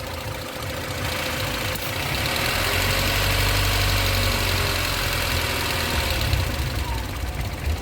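A V8 car engine idles at low revs, a steady deep rumble with a slight rise in level midway, close and continuous with no talking.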